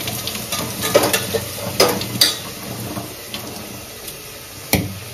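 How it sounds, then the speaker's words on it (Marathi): Cumin, onion, curry leaves and garlic sizzle in hot oil as a tadka for khichdi rice, a continuous close frying hiss broken by a few sharp spoon clinks against the pan, with no voices. "आता तडका मारलाय, जिरं, कांदा, कढीपत्ता, लसूण"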